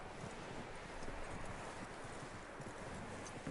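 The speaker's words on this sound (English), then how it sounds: "That looks like a decent horse." Horse hooves clip-clop steadily through a PS4 video game scene, a continuous dense trotting rhythm at moderate level with no talk over it.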